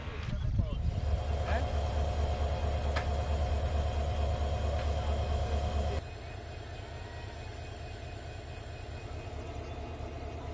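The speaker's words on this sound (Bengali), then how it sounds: "উদ্ধারকারী ট্রেন এসে বগিটি উদ্ধার করলে সকাল সাড়ে আটটার দিকে ট্রেন চলাচল স্বাভাবিক হয়" A train runs along a railway line in Bangladesh where services resumed after a derailed coach was recovered, giving a loud, steady rumble that drops to a lighter, rattling roll about midway through.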